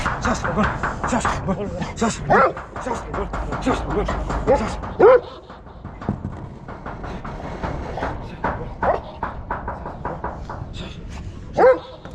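A police search dog barks several times in short bursts amid a busy background of voices and movement at an earthquake rescue, the barks fairly close and loud.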